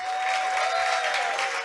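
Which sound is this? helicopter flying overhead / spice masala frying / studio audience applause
studio audience applause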